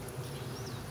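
Honey bees buzzing at an open hive during a check-up with sticky brood frames: a dense, steady, close hum with no pauses and no talk.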